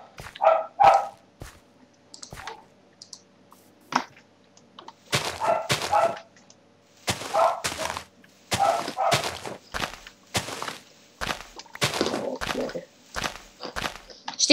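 Minecraft dogs bark in short, sharp bursts during gameplay, repeated in clusters across the stretch with quiet gaps between, fairly loud and close.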